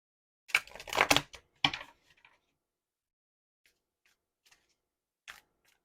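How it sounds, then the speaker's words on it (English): Tarot cards being shuffled by hand in a few quick, close riffling bursts that fade into scattered soft taps and clicks against near silence. "Let's give it another shuffle."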